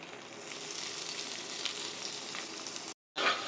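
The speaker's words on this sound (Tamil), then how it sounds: "ஸோ நல்லா வெங்காயத்தை நல்லா ப்ரௌன் கலராக ஆகிற வரைக்கும் வதக்கிக்கலாம்" Onions sauté in a pan over garlic for a fish kulambu with a steady, moderately quiet sizzle that cuts out briefly near the end and then returns.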